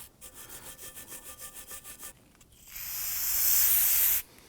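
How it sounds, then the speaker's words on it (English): Rhythmic back-and-forth scrubbing of a stiff bristle brush on a rusty Volvo XC90 front brake part, about a dozen quick strokes, followed by a loud sustained hiss of solvent spray. "Use a bristle brush. Get in there, scrub it."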